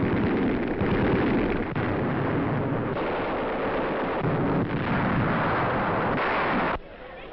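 Dense, continuous gunfire and blasts from German snipers firing on the Allied advance during the liberation of France, in archival wartime footage. It is loud and steady, with no voices.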